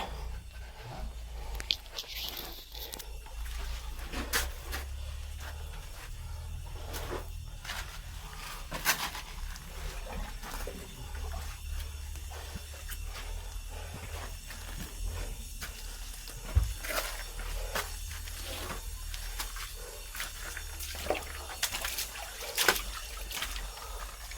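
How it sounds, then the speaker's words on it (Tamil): A long natural stream flows between hills near a cave, a steady low rushing trickle with scattered louder splashes and gurgles throughout, no voices. "மிகப்பெரிய நீள ஓடை இது"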